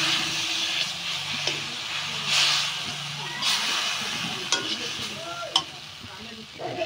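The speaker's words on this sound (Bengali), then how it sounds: "আমি চাল আর ডালের গুঁড়া দিয়ে সামান্য একটু নাড়াচাড়া করে নেব।" Rice and lentil powder being stirred in a pan for a baby's vegetable khichuri: steady scraping and faint hiss with a few sharper spoon knocks, fairly close, no one speaking.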